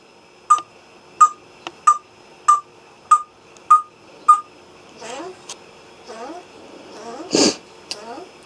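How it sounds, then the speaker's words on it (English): A bird calls loudly and close in a regular series of sharp, evenly spaced notes, then shifts into a few chattering, rising calls with a brief louder burst near the end. "I hope you guys can hear me over this bird."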